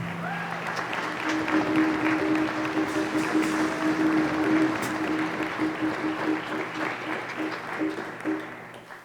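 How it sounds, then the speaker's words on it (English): A concert audience applauds an all-state jazz band steadily for several seconds, a dense wash of clapping at full strength that tapers slightly at the end. "Let's give them a round of applause."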